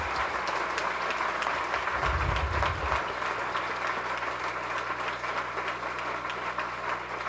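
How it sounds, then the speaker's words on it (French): A crowd applauding at a graduation ceremony, with steady, sustained clapping from many hands at moderate distance and a brief low rumble partway through. "Je vous demande une tonnerre d'applaudissements pour notre Seigneur Jésus."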